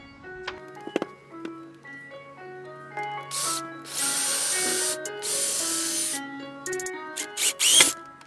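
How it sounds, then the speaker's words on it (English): An electric drill bores into wood for a bonsai bench in two loud, hissing bursts of a few seconds each over light background music. "I'm just going to drill this to there."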